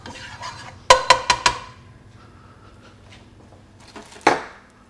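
An egg mixture with coconut and garlic being stirred in a pan: a run of four sharp metallic clinks of utensil on pan, soft scraping, then another louder clank, close and without talk.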